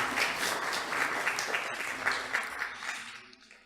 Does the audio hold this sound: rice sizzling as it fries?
no